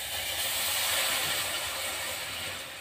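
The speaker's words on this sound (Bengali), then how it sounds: "এবার আমি ঘিটা কড়াতে ঢেলে দেব।" Ghee poured into a kadai on a lit stove gives a steady, loud hiss and sizzle that runs without a break and fades slightly at the end.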